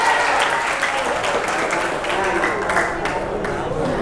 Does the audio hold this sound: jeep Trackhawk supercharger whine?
no